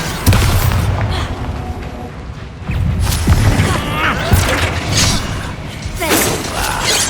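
Bombarda blasting spells going off in Hogwarts Legacy, a string of loud booming impacts and crashing debris spread across the stretch, with shouted voices mixed in among the hits.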